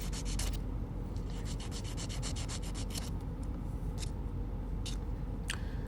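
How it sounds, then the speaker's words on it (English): Nail file rasping steadily across fingernails on a full set of transfer foil nails, a close continuous gritty scratching with quick stroke bursts and sharp ticks in the first half. "I'm just filing"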